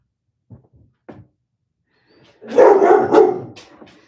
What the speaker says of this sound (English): the dog's barking at whoever's walking by